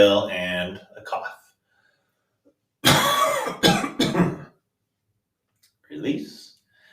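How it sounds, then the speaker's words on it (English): A short burst of harsh coughs, close and loud, during a qigong breathing exercise, follows a few seconds of talk, and a quieter voice comes after a brief pause. "Inhale and a cough."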